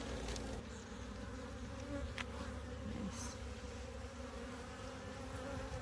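A swarm of honeybees buzzing steadily around a dune buggy during a removal, a continuous close drone with individual bees whizzing past, and a person briefly speaks.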